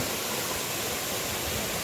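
A forest stream cascades downhill like a small waterfall on a mountain trek in Tamil Nadu, giving a steady, dense rushing roar with no breaks or voices.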